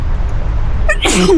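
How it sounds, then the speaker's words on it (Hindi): A single sudden sneeze bursts out close and loud after a short quiet stretch, ending with a voiced tail. "छींक आने वाली है।"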